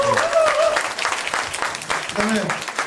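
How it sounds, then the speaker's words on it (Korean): A studio audience at a Korean TV talk show claps in a short, lively burst of applause while a host keeps talking over it. "박수 한번."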